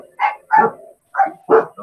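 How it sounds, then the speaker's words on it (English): Several dogs bark off and on, five separate loud bursts spread across a couple of seconds, with short gaps of quiet between them. "Oh, there goes the dogs."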